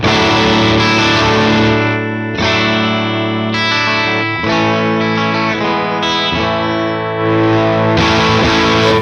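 High-gain electric guitar through an amp turned to heavy saturation, the volume backed off slightly; thick distorted chords ring out loud and sustained with no talking.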